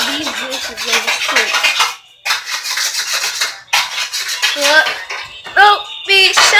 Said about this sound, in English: I'm about to go wash the dishes